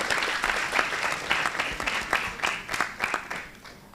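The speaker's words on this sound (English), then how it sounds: "Please give a round of applause" Steady applause from an audience at a public lecture at Universitas Hasanuddin, many hands clapping at once in a dense, continuous patter that swells and fades slightly.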